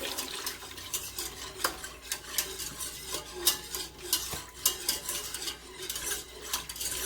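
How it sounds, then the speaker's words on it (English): A whisk scrapes and clinks rhythmically against a metal pot, stirring chicken broth soup in quick repeated strokes, close and fairly quiet. "And whisk it around until it's clear."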